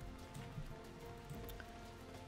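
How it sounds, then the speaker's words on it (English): Gentle rain patters evenly on surfaces in a Final Fantasy game world, a quiet, continuous hiss with soft scattered drops and no talking. "It's just so beautiful and I love that it's raining."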